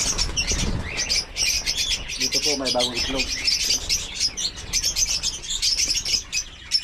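African lovebirds in a breeding aviary chirp in dense, high, rapid bursts with wing flaps mixed in, continuing steadily throughout while someone talks nearby.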